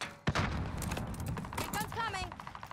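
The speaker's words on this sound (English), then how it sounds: "that's a grenade" A grenade goes off in Call of Duty on Rebirth Island, a single sharp thump followed by crackling gunfire and clattering, close and fairly loud, with a player talking over it and keyboard tapping underneath.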